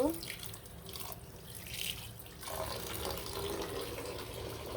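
Tap water pours steadily into a sink while radish greens are washed, a close, continuous splashing rush that shifts in tone as the leaves are moved under the stream.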